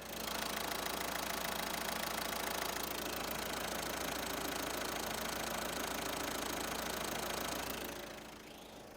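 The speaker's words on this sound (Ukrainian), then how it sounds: "Зараз послухайте, як працює мотор." A 2020 Opel Combo Long van's 1.5-litre diesel engine idles steadily with a low, even rumble and a slight knocking rhythm, then quiets toward the end.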